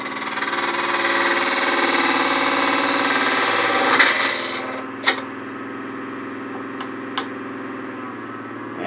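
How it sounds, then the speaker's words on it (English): A skew chisel cuts a wooden pepper mill spinning on a lathe, a steady rasping, rubbing whir for about four seconds that drops to the lathe's quieter hum, with a few brief scraping taps afterward. "I'm going to use a skew just to start bringing it down to the drive, no further."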